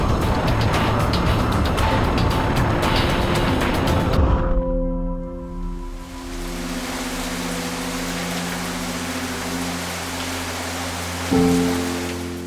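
Heavy monsoon rain in Pune roars as a loud, dense wash for the first few seconds, then gives way to a droning vehicle engine hum with rain hiss still faintly underneath.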